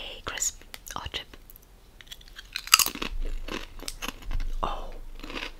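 British crisps being crunched close to the mic during a snack tasting, with sharp bites and repeated chewing crunches, plus a crinkly rustle, mixed with soft whispering.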